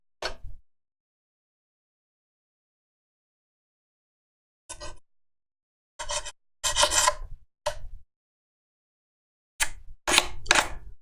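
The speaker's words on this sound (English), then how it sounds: "Once I have the majority of it off, I'll just lightly sand it." A wooden UGEARS hurdy gurdy part is lightly sanded by hand in short, separate bursts of rasping strokes, close up, with silent pauses between them.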